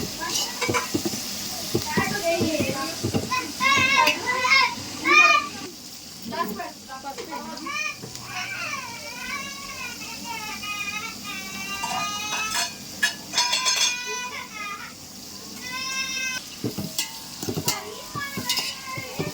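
Ingredients for a Muslim-style mutton dum biryani sizzle and fry in a pan with ginger-garlic paste, a spoon stirring and clinking steadily while someone talks over it and children's voices rise in the background.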